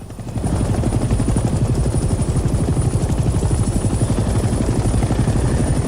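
A helicopter flies in the Hell Let Loose Vietnam video game, its rotor chopping in a fast, even rhythm that stays loud and continuous, with no speech.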